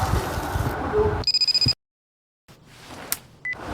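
A short run of electronic beeps repeats in quick pulses, a phone ringing in the anime Monthly Girls' Nozaki-kun, then cuts to silence before faint background noise returns.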